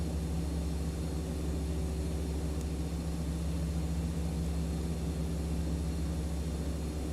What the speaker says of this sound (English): With the engines now running, we can turn on the 2 engine driven electrical generators.